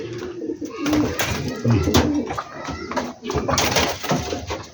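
Pigeons, a mated pair nesting with a chick, coo near the microphone in repeated low, throaty phrases, with some rustling and faint background noise between calls.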